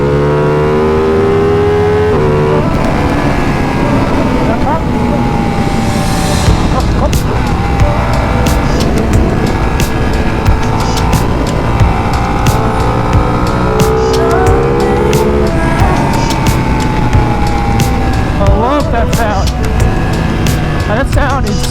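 A 2019 Ducati Panigale 959 Corse motorcycle engine pulls hard through the gears, its loud, rising roar climbing and dropping at each shift with strong wind rush, continuous and close throughout.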